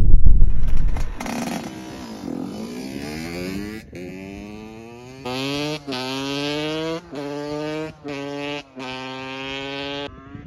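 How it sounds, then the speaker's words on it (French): A small Yamaha YZ 85 dirt bike engine, converted to supermoto, sputters to life nearby, then revs repeatedly in rising bursts while warming up, the pitch climbing and dropping with each blip of the throttle. "Je vais faire chauffer la moto"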